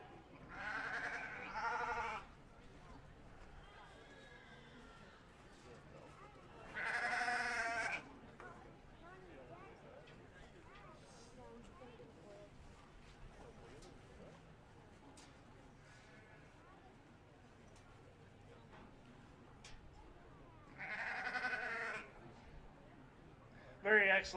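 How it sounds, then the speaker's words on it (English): Sheep bleat at a county livestock show, with several loud, separate calls spaced apart over a quiet, murmuring hall background. "Very excellent sheep show."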